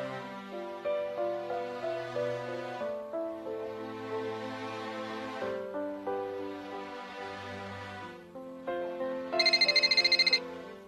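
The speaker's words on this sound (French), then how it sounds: "Téléphone." A telephone plays a melodic ringtone in a repeating phrase, clear and fairly loud, ending in a brighter burst of rapid tones.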